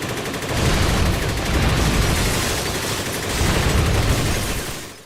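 Sustained, loud video-game gunfire from Rise to Honor, a John Woo–style action game, rolling on in dense bursts that swell and ease over several seconds with no talking.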